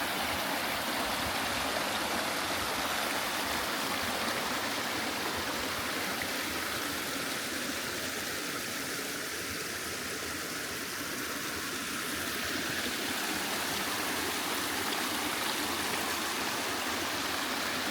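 Water rushes steadily in a nearby stream in a woodland garden in western North Carolina, a constant broad hiss and burble with no pauses, holding an even loudness throughout.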